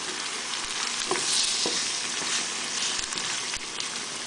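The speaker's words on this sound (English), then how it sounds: "And stir it up." Vegetables sizzle loudly in a hot pan after marinara sauce goes in, a dense continuous frying hiss with a few soft scrapes and clicks of stirring, close and steady, with no voices.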